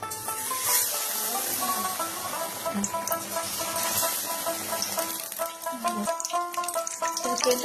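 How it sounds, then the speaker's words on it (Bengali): Pumpkin-leaf fritters coated in gram-flour batter fry in a pan of hot oil, a steady close hiss and crackle running throughout beneath faint musical tones and occasional bubbling pops. "ভাজতে হবে যাতে ভালো মজবুত হয়"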